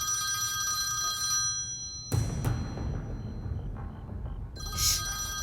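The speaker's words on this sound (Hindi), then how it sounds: "जब फोन बजता है तो उठाया जाता है," An old-style telephone bell rings in short bursts, stopping and starting, with a clattering knock between rings.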